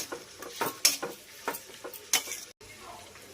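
Ivy gourd pieces fry in a pan over medium flame, with a spatula scraping and clicking in irregular strokes over a faint sizzle, close by, and a brief pause near the end.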